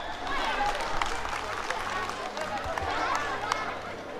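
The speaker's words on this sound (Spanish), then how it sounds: "fuerte el aplauso" An audience claps at a band dance during a New Year's quinceañera party, steady applause and crowd noise filling the whole moment with a voice talking over it.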